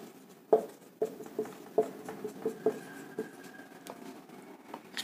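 Writing on a board during a biology lesson, a string of quick light tapping and scratching strokes up close in an irregular rhythm, with a faint tone in the background.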